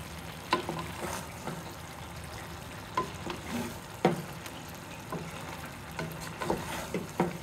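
A spoon scrapes and knocks around a pot of young green jackfruit curry. Irregular stirring strokes sound over a soft steady simmer, fairly close, with no voices.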